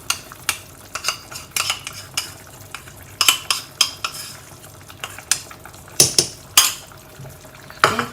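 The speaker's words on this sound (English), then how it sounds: "Okay, and you stir well." Spoon clinking and scraping as flour is stirred into a lamb stew in a pot, with repeated sharp metallic taps and swishes in an irregular rhythm, close and clear with no talking.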